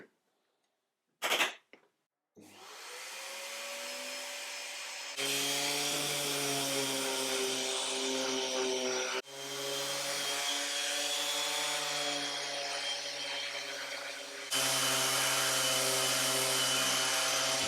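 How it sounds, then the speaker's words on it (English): A table saw fitted with a 6mm CMT grooving blade cuts spline grooves in mitred wood on a spline jig, with a loud, steady whining drone interrupted by abrupt shifts in pitch as the blade moves through the wood. "This was a perfect job for my Spline Jig and 6mm CMT grooving blade."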